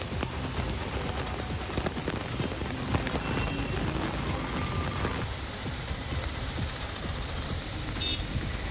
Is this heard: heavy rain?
yes